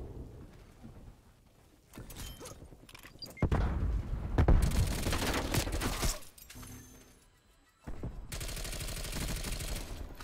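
Bursts of rapid automatic gunfire ring out in a Call of Duty Cold War match, loud sustained volleys separated by short quieter gaps with mechanical clicks, and no talking.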